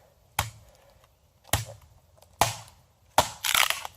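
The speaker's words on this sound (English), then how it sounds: "You just want to maybe split a piece down just to get on the old fire." An Estwing hatchet splits a piece of firewood at camp, giving four sharp, close woody cracks spaced about a second apart, the last followed by a short crunchy rasp of the wood giving way.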